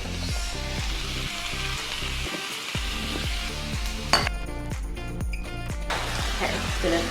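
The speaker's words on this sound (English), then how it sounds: "just gonna add a little bit of sugar, brown sugar, and my soy sauce." Beef strips stir frying with brown sugar and soy sauce, a steady close sizzle with repeated rhythmic stirring scrapes and light pan clatter, no one talking.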